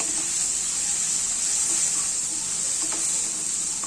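Grated raw mango fries lightly in a pan with a steady, even sizzling hiss, joined by faint occasional clicks, at close range and with no talking.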